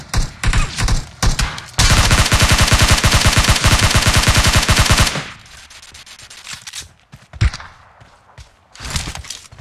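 DP-28 machine gun from PUBG Mobile fires a long unbroken automatic burst, preceded by a few shorter bursts and followed by scattered distant shots, loud and close.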